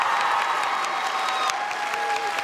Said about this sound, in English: Clap again, yeah.